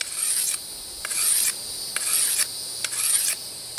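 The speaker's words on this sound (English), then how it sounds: "I've been working the blade for about 15 minutes with the stone and olive oil. And so now we proceed to sharpen both edges" A kukri blade is sharpened with a stone and olive oil in rhythmic back-and-forth rasping strokes, about six even passes, close and fairly loud with no talking.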